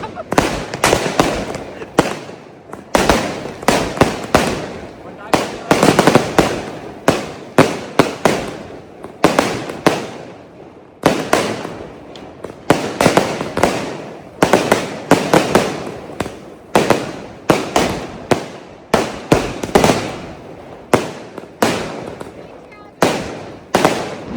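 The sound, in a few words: firecrackers and fireworks going off during Diwali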